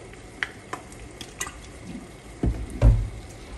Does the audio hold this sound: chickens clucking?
no